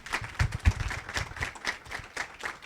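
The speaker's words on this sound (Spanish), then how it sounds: "Un aplauso, por favor, para la doctora." A conference audience gives the doctor a short burst of applause: a scattered patter of hand claps, moderately close and fairly light.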